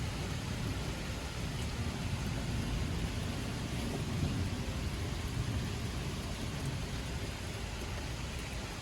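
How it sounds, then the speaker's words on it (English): Steady rain hisses throughout while a low, continuous rumble of thunder rolls far off in the background. "you can hear the thunder off in the distance"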